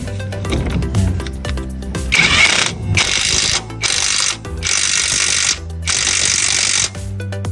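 A car jack being lowered under a Multicab gives loud, close, grinding mechanical bursts in several long segments separated by brief pauses, over a steady low background hum.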